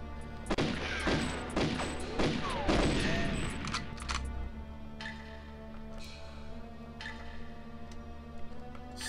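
Rapid bursts of gunfire in a GoldenEye 007 mod video game crack loudly over the first few seconds, then thin out to scattered isolated shots and metallic ticks against a low background hum.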